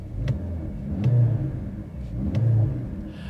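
The four-cylinder engine of a 2025 Mercedes-AMG GLC 63 S E Performance plug-in hybrid is revved in a few short blips, each swelling and falling back to a low idle rumble, moderately close.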